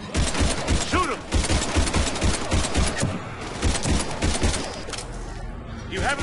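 Video game gunfire from Mass Effect 3 during a fight against husks, repeated close bursts of shots and impacts with a combat mix behind them, and a voice talking over part of it.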